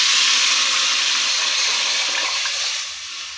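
A dissolved mixture pours steadily into a hot pot of simmering tilapia fish curry, a broad hissing, bubbling wash that eases off toward the end.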